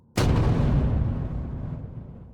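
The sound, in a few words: cannon fire and explosions on water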